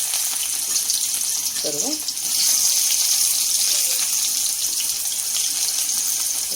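Onion and chili sizzle loudly and steadily in hot oil left from frying bitter gourd, a continuous frying hiss with a brief clatter and a short spoken word.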